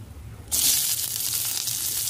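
Dried red chillies hit hot oil with a sudden loud, bright sizzle that rises and holds steady as they fry, close up with no talking.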